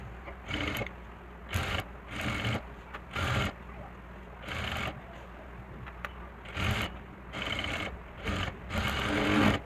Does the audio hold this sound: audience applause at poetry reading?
no